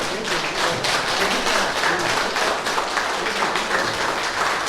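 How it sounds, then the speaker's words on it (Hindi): A crowd at an Independence Day ceremony applauds loudly to welcome a guest, a steady thick roll of clapping with occasional distinct hand strikes standing out. "कृपया जोरदार तालियों के साथ उनका स्वागत करें।"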